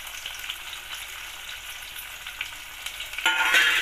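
Vegetables sizzle and fry in a pan while a vegetable pulao is cooked, a steady close hiss that swells noticeably louder near the end.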